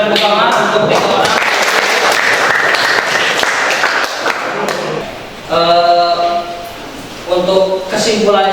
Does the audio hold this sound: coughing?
no